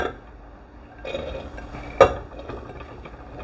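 Soaked dried beans tipped into a pressure cooker on a heated stove give a brief metallic clatter and rattle, with a sharper clink at one moment and quiet kitchen ambience around it.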